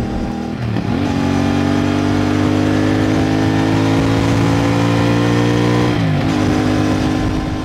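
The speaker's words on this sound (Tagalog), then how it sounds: "Tumanimik din ang kanyang makina." A Kawasaki 450NK motorcycle engine runs steadily at close range, a loud continuous drone with a slight pitch shift near the start and end.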